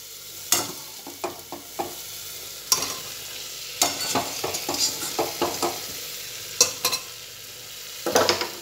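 Pointed gourd (potol) and potato pieces stir-fried in a pan, with a steady background sizzle and a series of sharp scraping and stirring strokes, irregular and close, with no talking.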